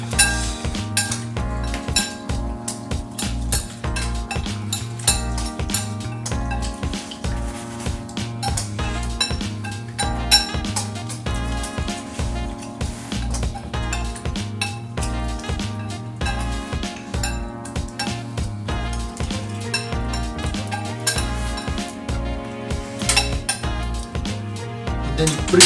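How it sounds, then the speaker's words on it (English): Utensil clinking and scraping against a bowl in steady stirring strokes, mixing chocolate and hot cream into ganache, heard under continuous rhythmic background music with no talking. "start mixing so the chocolate is starting to melt."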